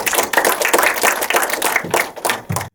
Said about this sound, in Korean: 박수 한번 감독님께 보내주시면